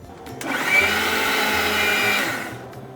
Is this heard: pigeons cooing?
no